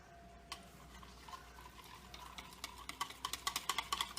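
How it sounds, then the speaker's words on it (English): Spoon stirring gravy into flour in a bowl, soft scraping and clinking that starts faint and builds into quicker, more regular taps toward the end. "And stir it up a little bit."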